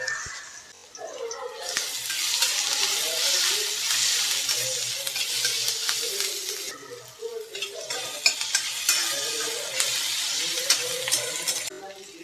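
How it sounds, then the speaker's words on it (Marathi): Chopped onion with a little salt sizzles and fries in a pan for tomato bhaji, steady hissing with repeated scraping stirs close by, briefly easing off before resuming. "आणि कांदा लालसर होईपर्यंत शिजवायचा आहे।"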